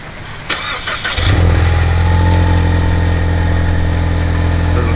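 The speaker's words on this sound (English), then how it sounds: "let's go ahead and get y'all the normal cold start" Cold start of a Pagani Huayra: after a few faint clicks, the engine catches with a sharp bark about a second in, then settles into a loud, steady idle close by.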